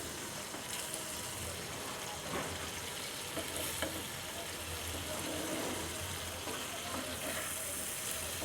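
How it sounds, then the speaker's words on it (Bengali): Blended tomato juice frying in a pan for a koi fish and pea curry, giving a faint, even sizzle with low rumbling underneath and occasional light stirring, all steady throughout. "ব্ল্যান্ড করা টমেটো জুস আবার একটু ভালো করে কষিয়ে নেব"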